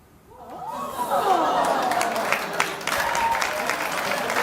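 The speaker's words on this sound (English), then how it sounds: "You don't have to clap if you don't want to." A television talk-show studio audience claps loudly and continuously, swelling in over the first second with a few voices and light laughter mixed into the steady, close applause.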